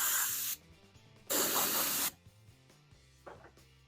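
Spray paint hissing onto an R/C car body in two close, steady bursts of about half a second and nearly a second, with quiet handling noises between them.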